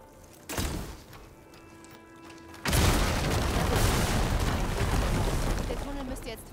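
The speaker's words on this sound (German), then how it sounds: "Wenn ich das hier sprenge, kann ich das Geröll beseitigen." Fire-ammo shot sets off barrels in Horizon Forbidden West, a short thump followed by a sudden loud explosion and a long rumbling roar of falling debris, with talk in the game mixed in.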